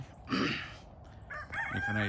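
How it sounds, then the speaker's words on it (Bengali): A rooster crows once on a farm in rural East Texas, loud and close, with a long drawn-out call, followed by other farmyard bird calls and a brief voice. "মোরগ ডাকতেছে"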